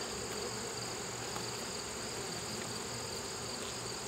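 Dense, steady buzzing of honeybees inside an open hive during an inspection before a mite treatment, a continuous close hum with no pauses and no talking.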